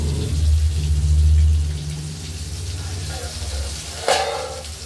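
Pointed gourd and prawns frying in a pan, a soft steady sizzle with crackling pops and a sharp spitting burst near the end, over a low hum.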